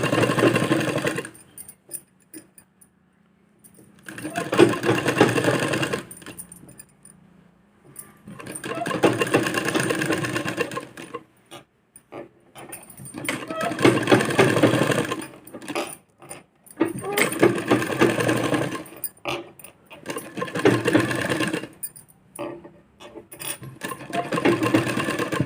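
A sewing machine stitches lace onto a blouse in a series of rapid rattling bursts, each running a few seconds with short pauses between, close and clear.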